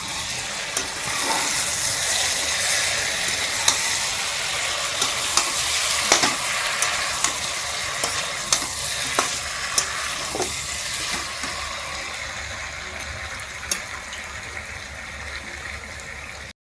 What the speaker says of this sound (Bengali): আর এদিকে মাংস কষানো হচ্ছে।